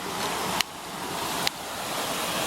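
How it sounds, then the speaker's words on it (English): A small waterfall in the Black Forest in Germany gives a steady, full rushing hiss of falling water, close and continuous, with two brief bumps breaking the flow. "they've got this on Google Maps as an official waterfall, even though it is a waterfall"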